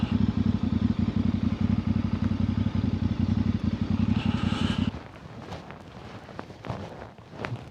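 A Voge 800cc mid-weight adventure motorcycle runs with a loud, steady engine drone for about five seconds, then drops away to quieter clatter, light thumps and breezy background noise.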